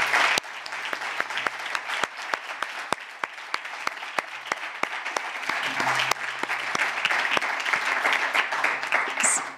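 Seated audience at a conference talk on frugality clapping, the individual sharp claps distinct and fairly sparse, moderately quiet with a faint murmur beneath.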